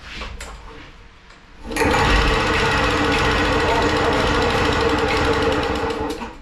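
An old 2-stroke lawn mower engine roars to life after a quiet lead-in, then holds at full throttle with a loud, steady, rattling drone to the end.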